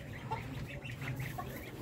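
Guinea fowl and chickens on a farm, soft scattered clucks and short calls at low volume over a quiet background.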